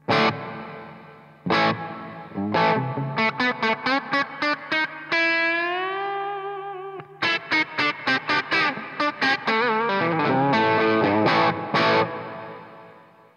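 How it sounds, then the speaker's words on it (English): Electric guitar played through a Marshall Slash SL5 combo amp with the reverb set to full, heard as loud picked notes and sustained chords trailing off in a long, washy reverb tail, with no talk. "And reverb on full."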